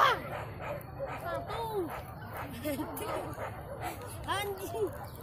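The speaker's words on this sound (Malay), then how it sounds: "Anjing." Dogs bark and yip in a scattered, excited run during an outdoor hunting event in Padang Ganting, medium-distance calls over a steady background with people talking.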